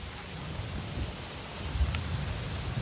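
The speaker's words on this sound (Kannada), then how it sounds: "ಈ ನಮ್ನಿ ಮಳೆ ಬೀಸ್ತಿತ್ತು" Heavy rain pours down beside a fishing boat at sea, a dense, even hiss of drops on water and deck with low wind rumble underneath, steady and close throughout.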